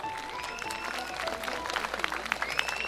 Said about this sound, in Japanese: 皆様どうぞ大きな拍手をお願いいたします。